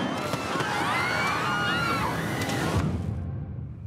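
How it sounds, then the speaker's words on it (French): Fireworks at a party, a continuous crackling and popping barrage that is loud and dense, with crowd noise beneath, cutting off abruptly near the end. "Samy, t'es sûr de toi, là, pour les feux d'artifice ?"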